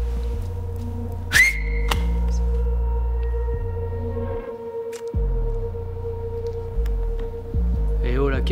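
A person whistles in a series of steady held notes, clear and close over a constant low hum, with brief sliding chirps and a short interruption near the middle.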